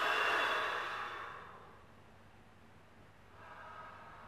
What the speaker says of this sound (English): You want to breathe out into the water and breathe in above the water.